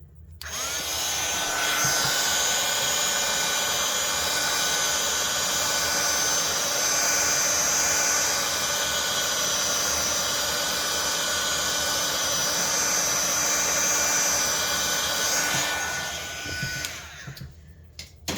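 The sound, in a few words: heat gun blowing on poured acrylic paint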